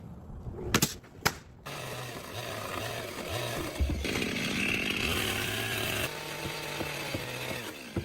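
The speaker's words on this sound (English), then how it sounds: "They are cutting off the excess parts of the OSB board with a chainsaw" After a couple of sharp knocks, a chainsaw buzzes up close and cuts steadily through OSB board, its pitch rising and dropping as it bites.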